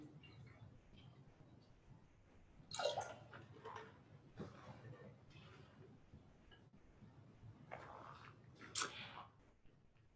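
Water poured into a vessel during a water communion at a Unitarian Universalist church service, faint and quiet with two brief splashing pours against a soft room background.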